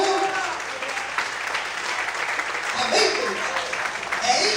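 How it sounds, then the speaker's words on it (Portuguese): A church congregation applauds during a sermon, steady crowded clapping with voices cheering and shouting over it throughout. "aplaude e exalte o nome dele"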